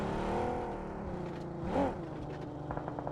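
A car engine hums and revs steadily in a video game set on a mountain road, with a short surge of revving midway and light clicks near the end.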